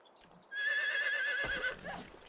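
A horse in Medieval Dynasty gives a loud, sustained whinny lasting over a second, with a quieter tail of movement noise afterward; no one talks over it.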